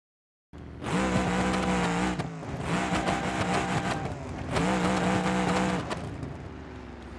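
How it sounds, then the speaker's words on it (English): A 2200-horsepower ramp truck in BeamNG.drive roars loud and close as it revs through mud, with two long surging pushes separated by a short drop in throttle and a brief lull at the start. "Let's see what 2200 horsepower looks like in the mud."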